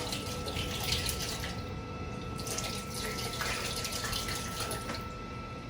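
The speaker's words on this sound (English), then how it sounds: "we're almost ready to pour this into the pot" Liquid being poured gently through cheesecloth into a pot while making farmhouse cheddar cheese, a continuous soft splashing trickle throughout, fairly quiet and close.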